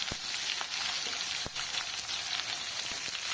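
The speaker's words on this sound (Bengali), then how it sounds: "এবার যে কুচনো পেঁয়াজগুলো ছিল তেলের ওপরে দিয়ে দিলাম।" Chopped onions hit hot oil already tempered with cumin seeds and bay leaf, giving a steady close sizzle and crackle with a few sharp pops, no talking.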